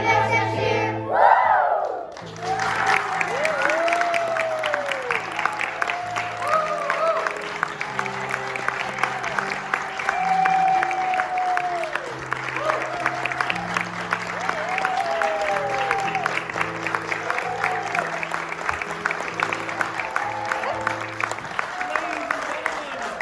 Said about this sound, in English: Let's give the cast of Snow Queen one more round of applause